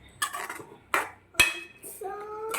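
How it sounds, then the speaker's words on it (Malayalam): A spoon scrapes and knocks against a pot while beetroot aviyal is stirred, giving three or four separate metallic clinks and scrapes with quiet gaps between them, close and fairly soft. "നല്ലപോലെ ഇളക്കുക."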